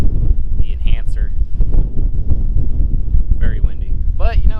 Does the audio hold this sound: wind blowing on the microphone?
yes